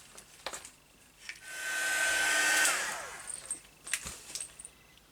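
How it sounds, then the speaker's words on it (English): A heat embossing tool blows hot air over a Christmas paperclip button in a rising, then falling whoosh lasting under two seconds, framed by small clinks and taps. "I am going to let my heating tool heat up for 10 to 15 seconds"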